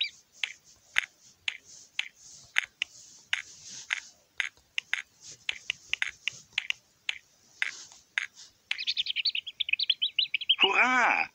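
Cartoon baby chicks in a Peppa Pig video game chirp in quick, bright bursts, scattered tweets followed by a denser run of rapid cheeping and a rising whistle-like call at the end, with no talk.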